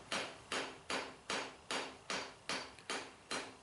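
A hammer forges the edge bevel of an old adze head, nine sharp metallic blows in an even rhythm about two per second, close and ringing briefly after each strike, with no talking.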